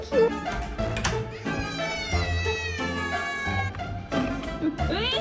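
A cat meows several times, drawn-out and close, with long wavering calls that rise and fall, heard mostly on its own against a light background.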